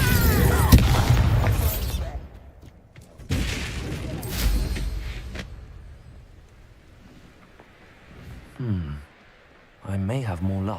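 Confringo blasting spells burst in a Hogwarts Legacy fight, loud broadband blasts in two clusters near the start, with voices talking throughout and brief tonal game sounds near the end.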